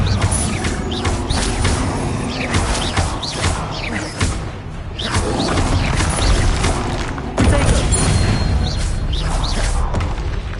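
Bombarda blasting-spell explosions in the Hogwarts Legacy video game, a series of loud booms and crashing thuds amid a busy, rumbling game mix.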